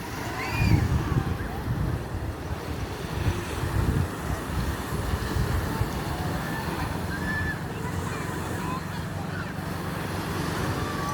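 Sea surf at Patar golden sand beach in Bolinao, Pangasinan, a continuous broad wash of waves mixed with wind buffeting the microphone, steady and moderately loud with faint voices at times.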